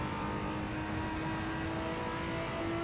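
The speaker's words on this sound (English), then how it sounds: "Engine sounds good as well." A race car's engine drones steadily in Assetto Corsa at the Nordschleife at night, a loud sustained high-pitched whine with the pitch slowly rising under power.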